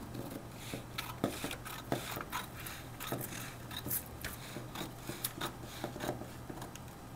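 Scissors cut through a paper pattern for a blouse, giving a steady run of soft, rasping snips and scrapes at low volume close by.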